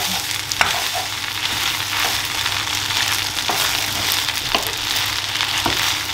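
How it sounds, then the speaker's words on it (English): Ingredients being mixed together in a sizzling frying pan, a steady loud hiss with periodic spoon scrapes and knocks, no voices. "So you just mix it. Mix all of it together."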